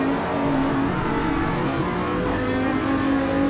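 Simulated race cars in Automobilista 2 at Road Atlanta, a steady loud engine drone with sustained revving tones from a close pack of cars, continuous throughout with no talk.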